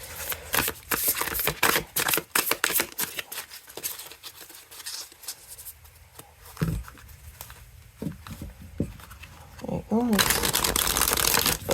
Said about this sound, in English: But this is a nice shuffle. It didn't clump.